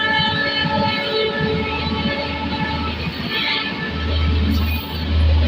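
A train passes nearby with a steady, loud rumble and a sustained tonal hum of wheels and engine, rising slightly in intensity toward the end.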